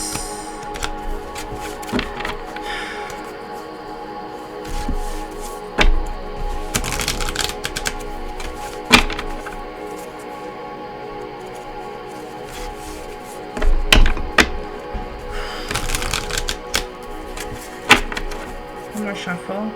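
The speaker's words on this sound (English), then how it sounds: "One more shuffle." Tarot cards being shuffled in repeated bursts of rapid riffling clicks, with quieter pauses between, close by and fairly loud.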